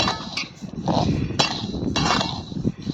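Coriander seeds roasting in a kadhai over a low flame give a steady rattle and scrape, with sharp metallic clinks as a spoon strikes the pan.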